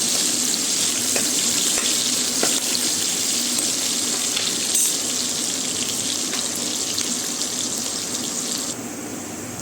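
Onions fry in a pan as they brown, producing a loud, dense, continuous sizzling hiss that holds steady throughout and eases slightly near the end, heard up close with no talking.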